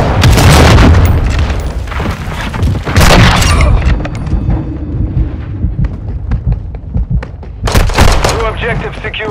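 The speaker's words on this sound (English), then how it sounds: "Friendly cruise missile inbound." A cruise missile strike in Call of Duty: Modern Warfare II lands as loud, heavy booming blasts with rumbling debris, followed by scattered crackling gunfire and another burst near the end.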